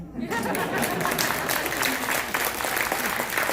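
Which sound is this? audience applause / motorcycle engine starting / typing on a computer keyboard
audience applause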